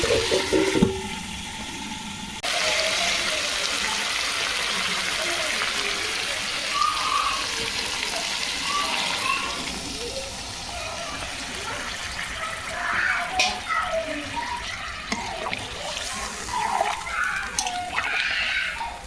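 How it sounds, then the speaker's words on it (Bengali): Hot water pours into a cooking pot of meat curry, a loud continuous gushing rush that settles into a steadier splashing stream with some bubbling toward the end. "ব্যাস বেশি করে জল দিয়ে দিয়েছি"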